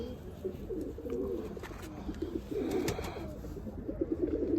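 Pigeon held in a handler's hand, cooing in soft low repeated throaty phrases close by, with faint background rustle and no clear speech.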